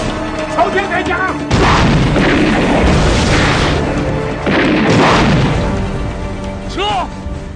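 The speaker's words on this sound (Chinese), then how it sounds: "朝天开枪！" Loud gunfire bursts into the sky during a tense ambush scene, heavy booming shots and crashes repeating across several seconds, with shouting voices mixed among them.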